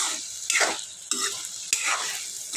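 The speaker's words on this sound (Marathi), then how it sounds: "ह्या तेलात 1 मिनटं हे बटाटे चांगले भाजून घ्यायचे आहेत, परतून घ्यायचे आहेत" Potato pieces sizzle in hot oil while being stirred for a spicy potato curry, a steady close frying hiss broken by three loud scraping sweeps of the spatula, with no talking.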